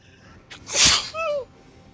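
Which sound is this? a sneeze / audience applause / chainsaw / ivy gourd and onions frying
a sneeze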